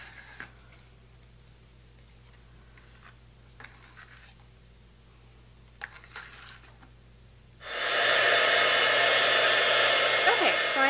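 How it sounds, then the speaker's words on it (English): A heat embossing tool starts up and blows a loud, steady rushing whine over clear embossing powder on a papercraft piece. It follows several seconds of quiet rustling and small handling sounds, with no talking. "take my clear embossing powder and cover this and then heat emboss it"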